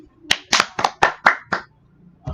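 Classmates clapping for group 2 at the end of a classroom presentation: six distinct, fairly loud claps in a loose rhythm, then one softer clap after a short pause.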